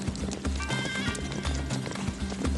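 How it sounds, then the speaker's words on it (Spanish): Medieval-style horses moving in the amble, a fast, smooth fifth gait, produce a quick, steady clip-clop of hooves, close and continuous, with a brief whinny mixed in. "estos caballos tienen un singular 5º paso, la ambladura, y es muy rápido"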